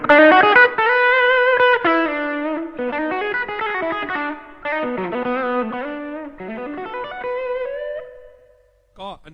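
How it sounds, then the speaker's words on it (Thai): An electric guitar plays a crunchy riff through a Tube Screamer 808 distortion pedal into an amp. The notes and chords are distinct, loud and close, with short gaps between phrases and no talking. "Yeah, and then you have the crunch channel. It's always the same amp, but with a distortion pedal."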